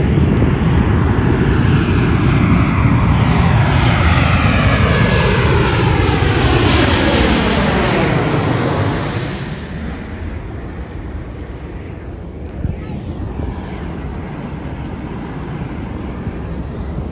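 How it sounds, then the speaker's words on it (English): A Virgin Australia airliner on approach to land roars loudly overhead, its engine noise sweeping down in pitch as it passes close, then fading to a steady, quieter rumble as it moves away. "So here's the plane that's about to land, the Virgin Airlines plane"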